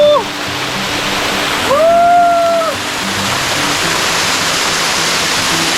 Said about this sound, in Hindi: Enjoying the waterfall.